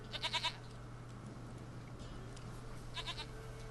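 A goat bleats in The Witcher 3 video game, with two short quavering bursts, one at the start and one near the end, over a steady low in-game hum.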